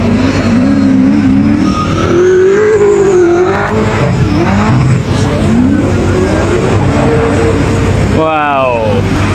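A drift car on a qualifying check run at D1GP Japan revs hard and squeals its tires through a slide, loud and close, then sweeps past near the end, with a spectator talking over the noise.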